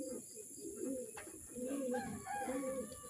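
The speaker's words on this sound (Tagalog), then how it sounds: "Lalanding na mga kalapatids yung dalawa nating ibon." Racing pigeons coo in low, repeated throaty phrases as they come in to land, close and clear over a steady high hiss, with no talk.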